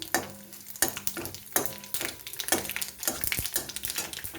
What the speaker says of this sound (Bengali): শুকনো লঙ্কা আর সর্ষেটা আমি ফোড়ন দিয়ে দিলাম